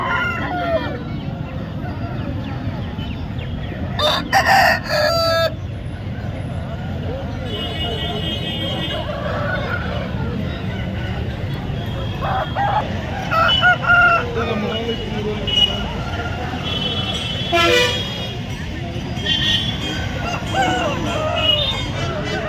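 Roosters crowing repeatedly at the Krishnagiri chicken market, several loud crows rising above a busy outdoor background of people talking, with occasional clucks and a passing vehicle.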